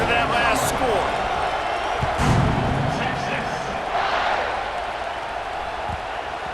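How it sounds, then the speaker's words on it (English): A stadium crowd in the College Football 26 video game buzzes after a score, a broad sustained roar beneath a play-by-play commentator speaking, with occasional thuds. "this crowd is buzzing after that last score"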